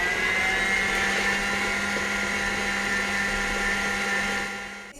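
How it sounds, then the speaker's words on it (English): A stand mixer whirs steadily on high speed while beating gluten-free pizza dough, a constant loud motor drone with a faint high whine that holds for several seconds before easing slightly at the end. "the next thing we're going to do is turn the mixer now up to high"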